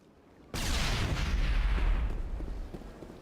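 A sudden loud explosion in the old video game Renegade bursts in after a brief quiet moment, then a heavy rumbling roar slowly fades over the following seconds.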